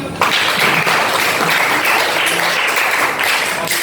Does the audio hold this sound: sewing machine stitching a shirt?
no